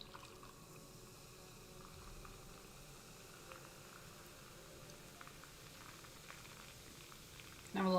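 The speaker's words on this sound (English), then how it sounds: "Does everybody hear the tall fresco with ice fizzing and bubbling?" A tall glass of Fresca soda poured over ice fizzes and bubbles steadily, a faint close-up crackle of carbonation over a low hum.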